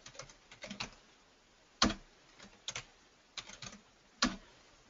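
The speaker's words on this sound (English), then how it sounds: "I can get my keyboard to work here." Keys clatter on a computer keyboard in quiet, irregular bursts of clicks with short pauses between them, close but soft, with no voices.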